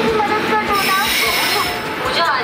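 Poorva Express train pulling into a platform at Patna Junction behind a locomotive, a steady rumble with squealing wheels and rail noise filling the station, close and continuous throughout.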